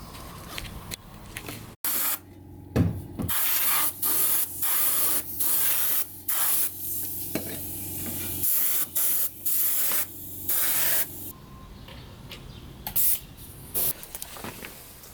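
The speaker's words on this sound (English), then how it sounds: "There's this little few spots where undersealed came out, so I'm going to spray some black in here" Aerosol can of black paint sprayed inside the door of a 1974 Citroen DS with rust repairs, in a series of short loud hissing bursts with brief gaps and a longer pause near the end.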